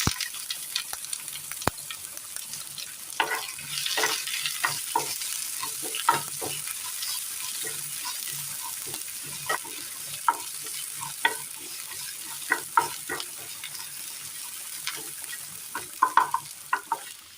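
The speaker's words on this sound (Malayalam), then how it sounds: "പൊട്ടിയ കടുകിലേക്ക് ചെറിയുള്ളി അരിഞ്ഞതിട്ട് കൊടുക്കാം." Chopped shallots sizzle in oil with already-popped mustard seeds, a steady close frying hiss broken by stirring scrapes and scattered clicks, with no voices.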